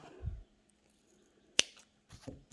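Scissors snip crochet yarn at close range, a couple of short crisp cuts separated by quiet pauses.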